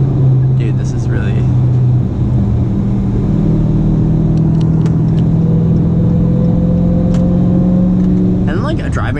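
A Dodge Charger Hellcat drives along a road, its engine droning loud and low, rising gradually under acceleration over road rumble, with no speech over it.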